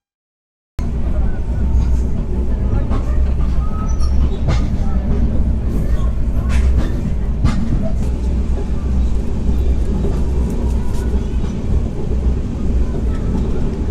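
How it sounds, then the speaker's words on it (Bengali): Maitree Express passenger train running at about 90 km/h, a steady loud rumble of wheels and carriage noise heard from inside, continuous throughout with no talk. "আমাদের ট্রেন এখন প্রায় 90 কিলোমিটার বেগে ছুটে চলছে।"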